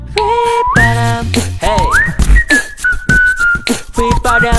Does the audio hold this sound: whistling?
yes